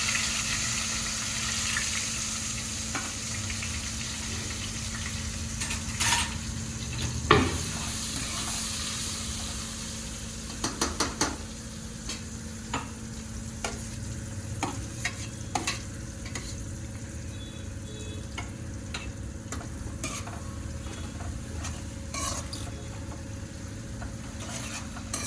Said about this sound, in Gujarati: હું તો ડુંગળીનો વઘાર કરું છું